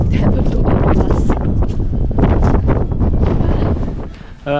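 Strong wind at the Cliffs of Moher on the Irish coast, roaring steadily across the microphone as loud, continuous buffeting with gusts and no break for the whole stretch.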